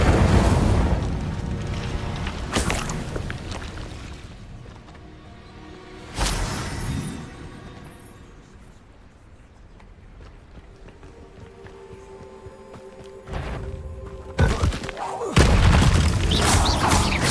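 In the Hogwarts Legacy video game, the Incendio fire spell is cast amid combat, with loud booming bursts and whooshes rising and fading between busier passages.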